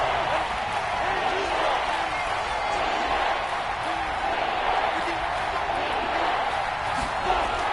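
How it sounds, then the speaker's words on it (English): A stadium crowd in the Madden 22 football video game shouts and roars through a replay, a dense, steady wash of cheering that holds loud and constant throughout. "Plenty of shouts from this crowd as they watch the replay."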